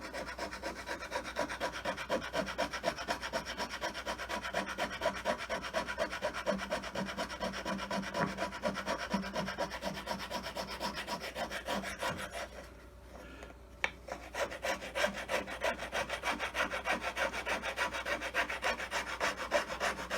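Steel file rasping steadily along a wooden handle for an old 4 oz cross pein hammer, close and continuous with dense repeated strokes, a brief pause near the middle, then filing resumes.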